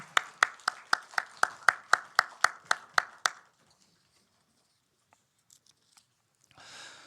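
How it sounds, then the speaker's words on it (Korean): A church congregation at a Sunday service claps in blessing, about a dozen loud, evenly spaced unison claps, followed by near silence and faint room noise. "다시 한번 축복 박수 하십시다"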